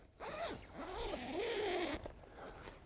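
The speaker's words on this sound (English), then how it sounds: "double-sided zippers inside and out, so you can have easy access" A double-sided zipper on the door of a two-room observatory tent is pulled in one long, continuous rasping sweep, close and fairly loud, with no talking over it.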